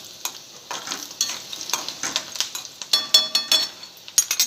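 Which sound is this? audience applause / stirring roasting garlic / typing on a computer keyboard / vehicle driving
stirring roasting garlic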